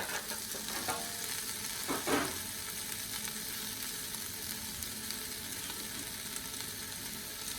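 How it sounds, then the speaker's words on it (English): Chopped carrot, celery, onion, tomato and garlic sweat in a pan with a steady, moderate sizzle, near and even, with a couple of brief stirring scrapes early on. "we're going to sweat down the vegetables"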